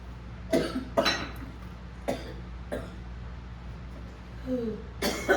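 Several sharp coughs from a pastor preaching a sermon come in a loose series, fairly close and moderately loud, over a low steady hum.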